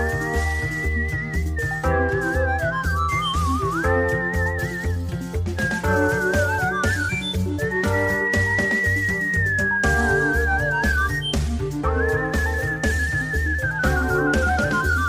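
Jazz whistling, a clear melodic line with held and bending notes over a steady, rhythmic band accompaniment and bass pulse.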